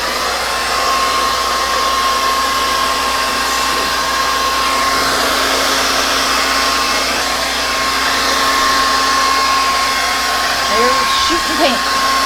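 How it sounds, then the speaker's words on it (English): A hair dryer set to high blows steadily over wet paint, giving a loud, continuous whooshing roar with a thin tonal whine that lasts the whole time, alone and without any talk. "every time I move my dryers up to high, I shoot paint all over the place"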